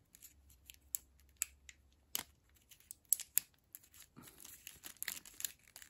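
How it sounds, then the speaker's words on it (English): Plastic packaging pulled and torn off a Super Saiyan Broly S.H. Figuarts action figure, close up, with sharp crinkles, snaps and rustles in irregular bursts and no talking. "do I have to rip this plastic apart?"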